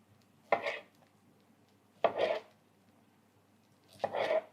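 Three separate knife cuts halving tomatoes on a board, each a short crunchy slice followed by a brief scrape, spaced about two seconds apart.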